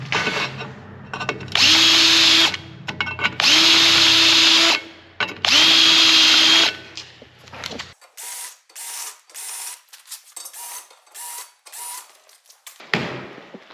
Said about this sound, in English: It seems like that drill bit like ate through that no problem